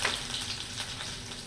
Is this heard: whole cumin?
yes